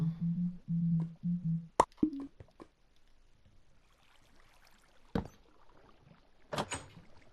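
A wooden door placed in the Minecraft video game, a few sharp knocking clunks spaced apart, with a short tonal hum at the start and quiet stretches between.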